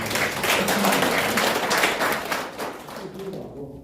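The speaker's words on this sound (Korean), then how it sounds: "여러분들 박수로" Seminar attendees at a Korean forum break into a round of applause, clapping briskly and fairly loud at first before the sound thins out and fades toward the end.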